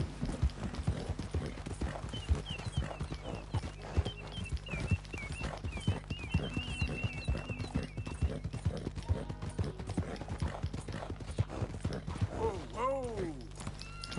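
Horse hooves clip-clopping in a steady, rapid walking-to-trotting rhythm while riding through open country in the video game Red Dead Redemption 2, with faint game music and a brief whinny-like swoop near the end.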